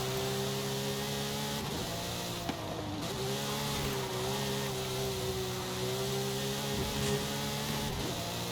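A Porsche engine driven fast around a small circuit in a racing video game, holding a steady, droning tone with shifting pitch through gear changes, continuous and fairly close.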